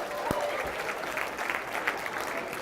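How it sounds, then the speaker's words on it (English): Steady applause from a conference audience filling the whole moment, brisk clapping at an even level with a faint murmur of voices mixed in. "Give yourselves a round of applause."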